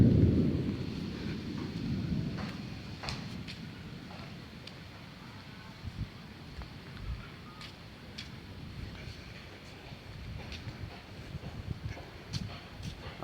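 Low thunder rumbles in the sky on a hot day, loudest at the start and then fading into a faint, distant roll. Light wind and a few scattered clicks sit over it, and no one speaks.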